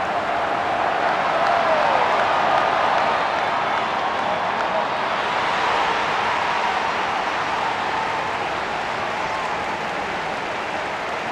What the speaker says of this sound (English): the crowd are appreciating it